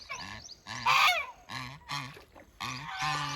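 Waterfowl at a pond honk and quack in a series of bright, nasal calls, several overlapping bursts at close range with short gaps between.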